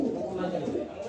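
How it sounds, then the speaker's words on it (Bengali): A pair of chocolate grizzle club pigeons coo in a low, steady, throaty murmur that continues throughout, heard up close. "দুইটি বিআরপিএফসি ক্লাবের কবুতর, দুইটাই ক্লাবের কবুতর"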